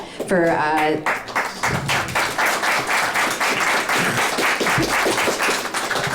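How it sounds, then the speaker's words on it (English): A crowd claps in steady applause for several seconds, loud and close, following a brief burst of speech at the start. "I would like to give you guys a huge round of applause"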